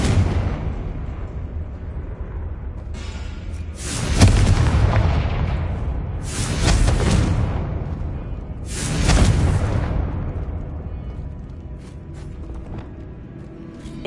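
Three loud booming Confringo fire-spell explosions in Hogwarts Legacy, each a broadband blast with a rumbling decay, spaced a few seconds apart over a low continuous game rumble.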